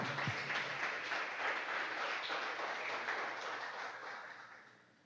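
A church congregation claps in a large, echoing room, the applause holding steady before gradually fading away.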